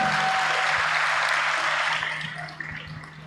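An audience at a school graduation ceremony claps for the graduates, a dense burst of applause that holds steady and then tapers off toward the end, with a faint steady tone underneath.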